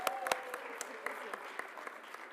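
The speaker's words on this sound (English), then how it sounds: "Round of applause." Scattered audience applause at a college honors program awards ceremony, a thin patter of claps with a few sharp nearby hand claps, fairly quiet and steady throughout.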